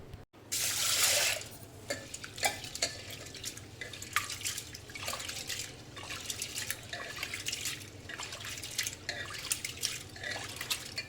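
Toor dal (pigeon pea lentils) being washed in water in a pressure cooker pot, with splashing and swishing, then irregular drips and trickles close by, no talk.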